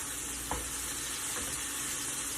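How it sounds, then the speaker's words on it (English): Squash with jalapeno and chili being stirred in a hot pan, giving a steady close sizzle with one brief scrape of the utensil early on. "Give it a stir."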